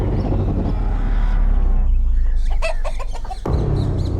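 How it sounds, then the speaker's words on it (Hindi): A chicken clucks in a short burst of close, sharp calls in the middle, surrounded by loud, dense background sound in an Indian crime drama scene. "इसमें जो मुर्गा है ना, ये मेरे खाने का स्वाद बढ़ाएगा।"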